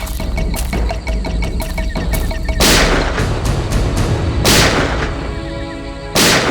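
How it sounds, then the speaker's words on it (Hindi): Firecrackers going off in a jungle: a rapid run of small crackling pops, then several loud, sharp bangs ringing out at uneven intervals. "ये पटाखों की आवाज कैसी आ रही है? जंगल में पटाखे कौन चला रहा है?"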